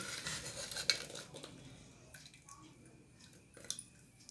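Cooked rajma being moved from a pressure cooker into a bowl brings soft clinks of a metal spoon against the vessels and wet squelches, quiet and intermittent with pauses between scoops.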